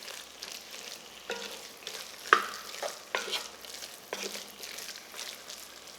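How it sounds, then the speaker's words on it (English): A gumbo roux for chicken, shrimp and andouille sausage cooks down in a pot, stirred with soft intermittent scrapes and a faint low sizzle, close but quiet, with one sharp clink of the spoon partway through. "you're going to keep stirring this down"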